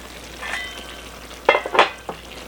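Chicken tikka fries on a high flame with a constant soft sizzle, broken by a few sharp, louder bursts of spattering as it is stirred in the pan.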